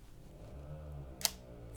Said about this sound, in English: Very quiet shutter sound.